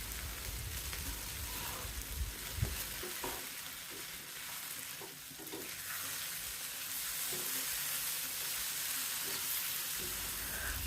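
Tomatoes cooking in a pan over low-to-medium heat for an onion chutney, a continuous soft sizzle and crackle with occasional stirring scrapes, steady and close, with no talking.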